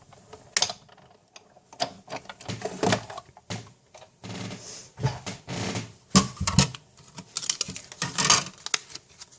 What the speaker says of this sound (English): We're going to cover this with the top cutting plate and we'll die cut quick.